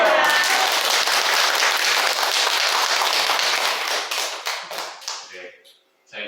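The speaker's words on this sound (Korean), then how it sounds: "할렐루야 하고 박수 한번 우리 크게 쳐주시기 바랍니다." A church congregation claps loudly together during a Sunday morning service, a strong burst that thins into scattered claps and dies away near the end, followed by a brief voice.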